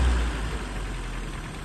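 A car engine revs steadily at high speed, a loud continuous roar that holds without break for the whole moment, close by and with no talk over it.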